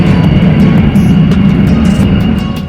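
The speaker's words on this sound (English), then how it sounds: "Got another fighter jet." Loud, continuous roar of a fighter jet taking off nearby, heard from an airport, a deep rumbling drone with no one speaking.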